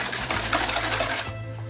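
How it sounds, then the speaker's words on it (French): An electric mixer whirs steadily as it beats egg yolks with sugar for a traditional tiramisu, a loud, even motor drone that cuts off abruptly after about a second. "on va faire ce que l'on appelle blanchir nos jaunes avec un fouet ou un batteur électrique"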